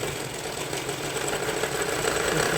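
A sewing machine runs steadily, stitching a side seam on a kurti, a continuous even mechanical whir held close and uninterrupted with no talking.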